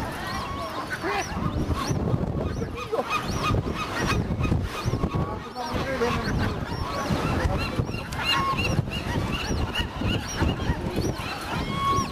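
Noisy bird colony on Alcatraz Island, with a young seagull's calls among a dense chorus of honking, squawking gull cries that carry on continuously at close to middle distance.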